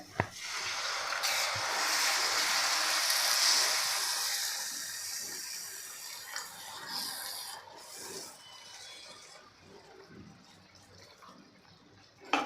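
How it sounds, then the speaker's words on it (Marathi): About a quarter cup of water splashes and pours into a pan of matar paneer gravy with a broad hissing rush for a few seconds, then quieter scraping and dripping follow. "अगदी पाव कप इतकं पाणी घातलेलं आहे"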